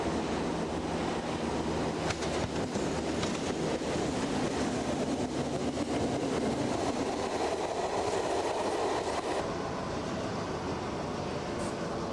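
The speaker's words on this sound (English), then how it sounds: "it is British Rail's most powerful locomotive" A British Rail diesel locomotive, the class's most powerful, rolls past on the rails with a steady, loud rumble and rail noise. The sound holds throughout and thins out near the end.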